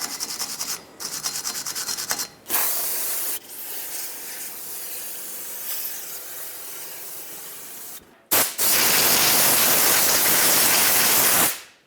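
Old anti-seize being scrubbed off the front wheel hub of a 2018-2023 Subaru Crosstrek during a brake job, heard as loud, close, steady abrasive rubbing in long passes separated by brief pauses, with a harsh burst near the end.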